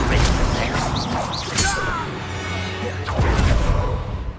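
The Confringo spell in the video game Hogwarts Legacy sets off a loud blast with whooshing, crashing impacts, followed by a second burst amid combat effects and a voice.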